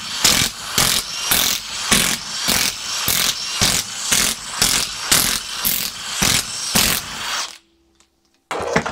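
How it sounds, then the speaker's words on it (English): Crown wheel bolts coming off a Land Rover drivetrain with a ratchet, a steady series of loud, rhythmic clicking strokes roughly twice a second, stopping abruptly into near silence at the end. "Now I'm going to remove these crown wheel bolts before I pull this"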